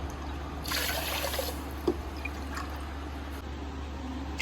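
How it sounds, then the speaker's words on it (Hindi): Water is poured into a pot of sugar to make syrup for rasgulla. A short, splashy trickle rises and fades over a steady low kitchen hum, with a few faint clinks. "तो ये 6 कटोरी पानी हमने डाल दिया है"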